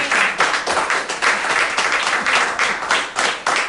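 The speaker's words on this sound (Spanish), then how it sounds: "Dale un aplauso fuerte a Dios." A church congregation applauds loudly and close, a thick wash of many hands clapping with a pulsing, uneven rhythm throughout, no talking over it.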